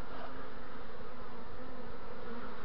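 A honey bee swarm drones steadily around a hive, a continuous close buzzing hum with no voices.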